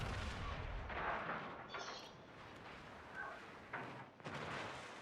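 Naval gunfire in a warship video game, with heavy booming shots and explosions rolling out over a faint, low-level sound bed, a few distinct blasts spaced across the few seconds.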